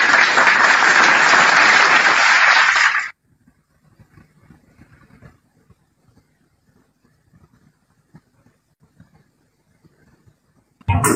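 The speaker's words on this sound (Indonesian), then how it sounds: "Oke, sudah selesai tepuk tangannya." A loud, dense burst of audience applause at a talk lasts about three seconds and stops sharply, leaving near silence with faint scattered room noise.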